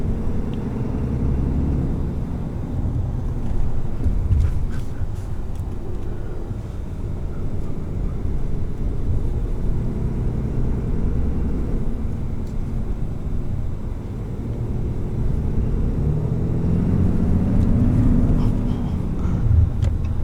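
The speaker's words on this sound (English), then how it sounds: "you feel the turbo start spooling up and you start to prepare for the power behind this" 2020 Ram 3500HD Cummins diesel truck accelerating, a steady deep rumble heard from inside the cab that swells gently as it builds speed.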